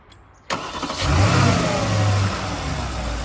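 A car engine cranks via an Awanfi J120 portable jump starter: a sharp click, then the motor catches and revs up loudly, settling into a steady rumbling idle close by.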